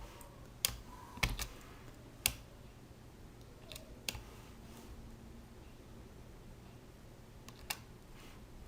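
Sparse, irregular keystrokes on a computer keyboard while entering code, a handful of sharp clicks scattered across a quiet stretch with a low steady hum underneath and no voices.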